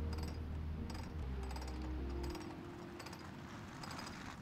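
Ratchet wheel on a cannon clicking during reloading, a series of quick mechanical clicks and rattles over a low steady hum, close and moderately loud, with no talking.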